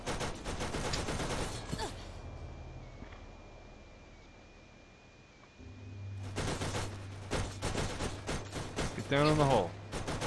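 Turret gunfire from an enemy gun emplacement in the Borderlands video game comes as bursts of rapid shots, with a quiet stretch between them and a louder volley toward the end. Someone speaks over the shots.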